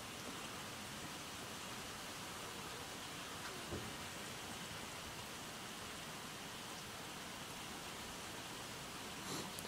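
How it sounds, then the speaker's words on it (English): Steady rain falling outside, a continuous soft hiss at low level with no breaks, heard from indoors over about ten seconds. "If you guys are getting a lot of rain sound or whatever, I'm sorry about that. It is raining."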